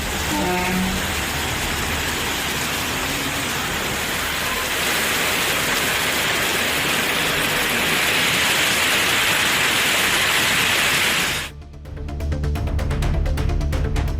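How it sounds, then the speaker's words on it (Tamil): Heavy rain in Thirumangalam, Madurai, a dense steady hiss of downpour on surfaces for most of the stretch, then cutting abruptly to a different rain recording with scattered nearer drops. "அரை மணி நேரத்திற்கு மேலாக பலத்த மழை பெய்தது"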